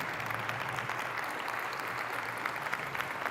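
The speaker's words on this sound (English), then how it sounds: "let's give all of our students a round of applause for being here" An audience applauds students at a community forum, a dense steady wash of clapping from a crowd, fairly distant and even, with no voices over it.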